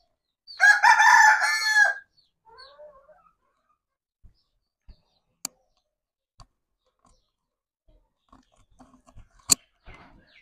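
A rooster crows once, loud and near, then sparse faint clucks, pecking clicks and scattered taps follow in a quiet farmyard.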